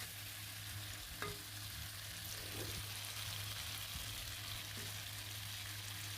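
Aair river fish fries with onion in a pan, giving a steady, faint sizzle with a few soft stirring clicks and no talking.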